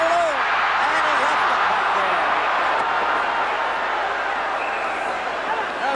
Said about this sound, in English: And the crowd groans as Valiquette broke right through and lost control about 15 feet in front of the goal